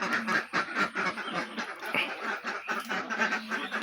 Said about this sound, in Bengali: এই দেখেন আমার হাঁসগুলো